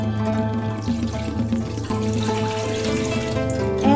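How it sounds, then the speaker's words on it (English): Water running steadily from a tap into an Instant Pot inner pot, a continuous close, fairly loud splashing stream with a slightly rising pitch as it fills; no voices. "In the Instant Pot, add the water"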